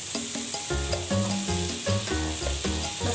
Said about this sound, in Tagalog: Lagay na natin ang ating butter. Salted butter yung ginamit ko, guys.